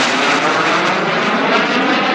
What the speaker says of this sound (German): the afterburner, it's just you inject extra fuel into the hot exhaust gas